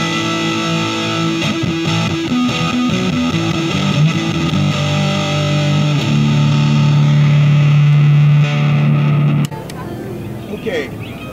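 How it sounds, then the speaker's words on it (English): Electric guitar played through a Mu-FX Boostron 3 pedal on a high-gain distortion setting, loud and sustained with held chords and a long ringing note, then cut off abruptly near the end. "now I'm going to switch over to our distortion setting, much more higher gain."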